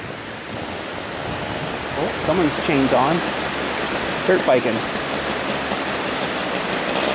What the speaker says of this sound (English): It's a really nice, really clean looking river.